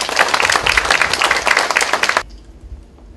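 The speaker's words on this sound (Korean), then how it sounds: "큰 박수로 맞이해 주십시오" A lecture audience claps loudly to welcome a speaker at a public talk, dense applause that stops abruptly after about two seconds, leaving a quiet room.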